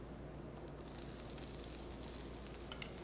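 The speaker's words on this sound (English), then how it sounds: "Listen to that sizzle." Onions sizzle quietly in hot, bubbling oil in a frying pan, a soft, steady crackle with occasional small pops.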